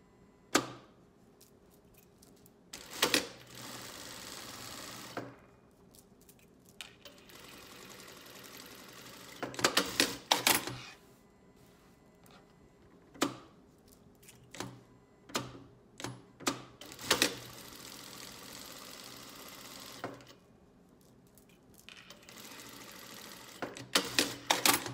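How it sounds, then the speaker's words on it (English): A sewing machine stitches a half-inch seam while piecing a blocked squares pillow, running in short bursts separated by quiet pauses, moderately loud and close, with no talking. "At the machine, I'll stitch a 1/2 inch seam allowance."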